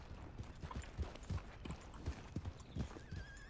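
A horse is ridden at a brisk pace in Red Dead Redemption 2, its hooves clip-clopping in a quick uneven rhythm, faint, with tack jingles and a snort-like whinny.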